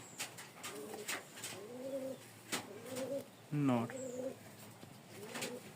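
Pigeons coo softly and repeatedly nearby, about five low throaty calls, with one brief louder call and a single short spoken word.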